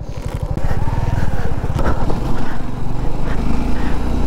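A motorcycle on a long ride roars up close, its engine loud and steady with rising and settling revs throughout.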